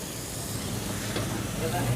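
Chopped capsicum, carrot and tomato fry on a hot tawa griddle at a street food stall, giving a steady, close sizzle and hiss that holds for the whole stretch.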